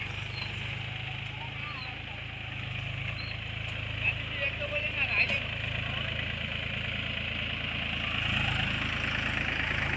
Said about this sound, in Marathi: हा ट्रॅक्टर नांगरतो इकडे हे बघा जागा खूप कमी आहे पण नांगरते